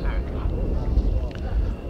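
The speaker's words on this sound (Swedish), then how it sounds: "Vi ser nu att nu taxar en 32 Lansen ut." A J32 Lansen jet taxis out at an airfield in Uppsala, its engine a low, steady rumble with wind buffeting the microphone, while someone talks over it.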